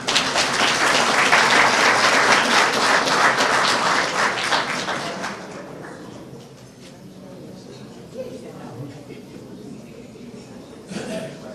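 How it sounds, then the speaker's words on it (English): Audience applause fills the room at an Atlanta Business League membership drive evening, loud and dense for about five seconds, then thinning to scattered claps and murmuring crowd noise with a brief clap burst near the end. "Can we hear another round of applause for the Braves and the hostess tonight?"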